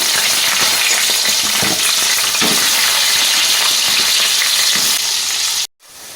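Loud, dense sizzling of cut potatoes frying in a pan, continuous and close, cutting off abruptly near the end.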